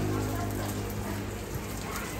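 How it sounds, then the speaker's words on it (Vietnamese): Steady rain pours down in a dense, even hiss on surfaces nearby, continuous and unbroken for the whole stretch. "trời mưa nè các bạn ơi."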